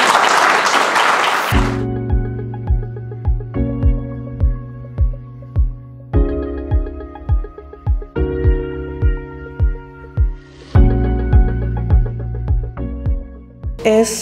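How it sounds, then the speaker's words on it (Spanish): A short burst of applause rises at a judge's swearing-in ceremony as a minister of the Court of Appeals of La Serena, lasting under two seconds before giving way to steady tonal music. "Le damos un fuerte aplauso."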